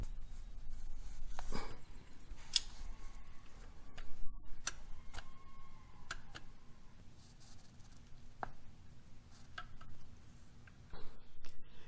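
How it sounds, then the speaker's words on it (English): A torque wrench on a supercar's bolts, set to 45 newton meters, gives repeated sharp ratchet ticks and clicks in irregular bursts with soft metallic scrapes between, close and fairly faint, no talking. "I'm gonna go ahead and get both of those guys torqued down to 45 Newton meters or 33 foot-pounds"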